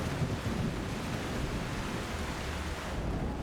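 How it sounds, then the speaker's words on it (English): Thunderstorm outdoors with wind: a steady, broad roar of wind and rain-like noise throughout, moderately loud, with a low rumble early on and no speech. "But let's listen for a moment. I live in an area with thunderstorms, and the sound is so good."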